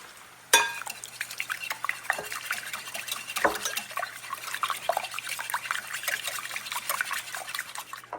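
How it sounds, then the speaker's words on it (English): Potatoes and onions for a Spanish omelette frying in a pan, a sharp knock of utensil on pan, then continuous stirring scrapes and bubbling sizzle, close and busy, with a louder clatter partway through. "Keep stirring them so they don't burn."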